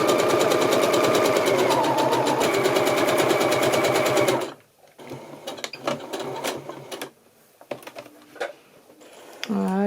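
A sewing machine stitches fabric for an Easter rabbit bag, running in a fast, loud, even burst for about four seconds, then stopping, followed by faint handling clicks and rustles.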